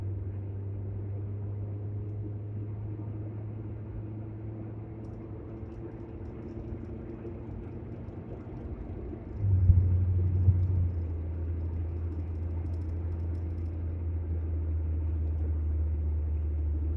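A car vibrating and rumbling while accelerating on a road test, giving a low, steady engine drone with a short louder surge partway through, no talk over it.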